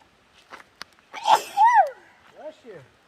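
A person sneezes once, a sharp close burst after a short breath, with other voices talking nearby.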